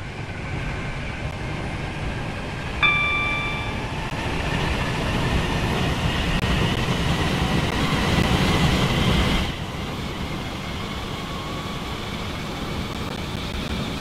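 Class 801/802 train running in the Stepford County Railway game, a steady rumbling roll with a brief high tonal chime early on, continuing evenly before the noise drops slightly partway through, no talking.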